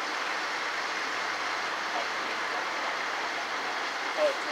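A steady rumbling roar of a train running on rails, continuous and fairly distant, with no talking.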